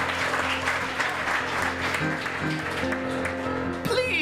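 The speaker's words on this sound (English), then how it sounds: "Let's give it a big round of applause." Audience at a musical show clapping together in a dense, sustained round of applause over background music, with the clapping continuing steadily to the end.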